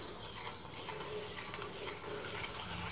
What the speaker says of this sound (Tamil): இப்போ ஒரு விஸ்க் வச்சுட்டு நல்லா வந்து மிக்ஸ் பண்ணிக்கோங்க.